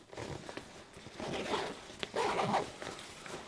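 Zipper on a Gregory Baltoro 65L backpack pocket being pulled open or shut, a few short rasping strokes close by with handling rustle between them and no talk.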